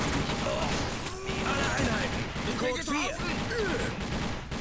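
Rapid gunfire from the first-person shooter TimeShift, a steady dense barrage running through the whole stretch under game noise, with a voice talking over it.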